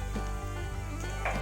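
Urad dal and tempering spices crackle and sizzle in hot oil in a home kitchen pan, a steady close frying hiss with a brief stir or clink near the end and no talk.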